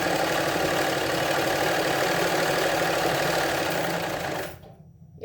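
A hand-operated sewing machine stitches a blouse at home, a steady close whirring that runs continuously for several seconds and then stops abruptly near the end, leaving quiet.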